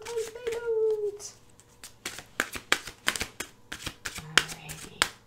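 Oracle cards being shuffled by hand, with a string of crisp, close riffling snaps and flicks in quick irregular bursts; a brief voiced sound opens the clip.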